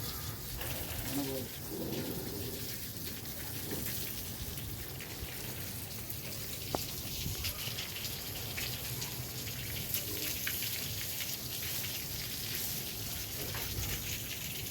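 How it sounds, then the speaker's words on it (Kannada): Water sprays steadily onto the walls of a newly built house being cured, a constant hissing patter with occasional drips and faint voices in the background. "ಈ ಕಡೆ ಎಲ್ಲ ನೀರು ಬಿಡಬೇಕು"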